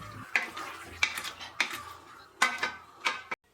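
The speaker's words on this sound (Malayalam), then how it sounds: "നന്നായി ഒന്ന് ഇളക്കി മസാലയെല്ലാം ഇതിൽ നല്ല രീതിയിൽ ഒന്ന് പിടിക്കണം." Chicken masala for madhhooth being stirred in a metal pot, a utensil scraping and knocking against the sides in five or six sharp strokes spaced about half a second apart, close and clear with no talk.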